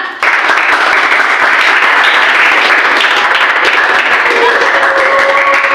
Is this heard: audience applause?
yes